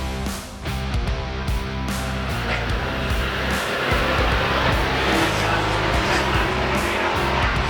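Hobby stock race cars roar around the Tomah Sparta Speedway oval in a steady, loud, dense engine drone that swells and shifts as they pass, with an announcer's voice running underneath.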